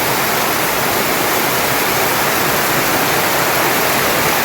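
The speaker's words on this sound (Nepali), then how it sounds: "यति डरलाग्दो भयङ्कर पानी परिरहेको छ" Dense, roaring wash of heavy monsoon rain in a Darjeeling village near Mirik, pouring down without a break, loud and close, with no voices.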